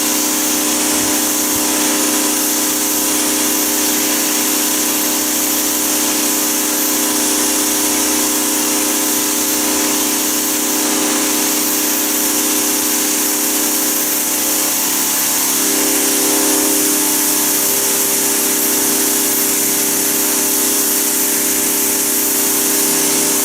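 A 3000 PSI pressure washer cleaning a sandy cement driveway gives a loud, unbroken high hiss of spraying water over a steady motor hum, running unchanged throughout with no talk.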